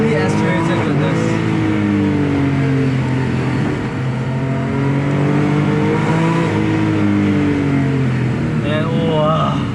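Close, loud revving from a 3.8-litre naturally aspirated Porsche 911 Carrera S 997.2 engine, pitch sweeping up and down over several pulls with a rich harmonic drone that never lets up.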